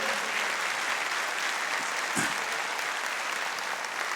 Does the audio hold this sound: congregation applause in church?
yes